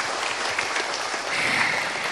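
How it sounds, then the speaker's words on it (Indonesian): Brief, fairly quiet clapping from the audience at a religious lecture, a steady wash of hands without talk. "Ya tepuk tangan dulu."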